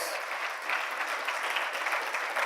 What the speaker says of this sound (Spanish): Dele un fuerte aplauso a nuestro hermano que viene desde muy lejos, aquí con nosotros.